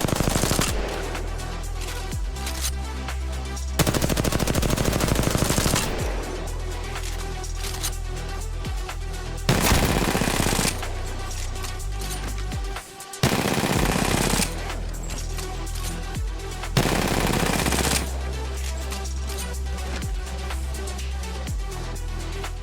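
R-301 rifle fire in Apex Legends, loud close automatic bursts repeated several times with brief pauses between them, no talking.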